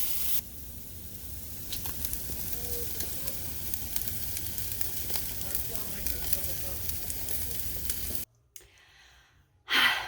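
Barbecue meat sizzling on an outdoor grill after being flipped, a steady close crackling hiss running for several seconds before cutting off, followed by a brief rustle.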